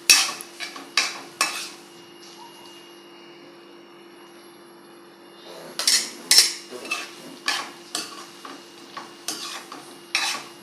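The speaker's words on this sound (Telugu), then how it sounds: "ఒకసారి ఉడకపెట్టాం కాబట్టి పద్దాలు ఇలా గెరిటితో తిప్పినా చిదురైపోతాయి ఫ్రెండ్స్" A spatula scrapes and clinks against a pan while stirring potato tomato curry, with bursts of rapid clatter, a quiet pause, then more stirring strokes over a steady kitchen hum.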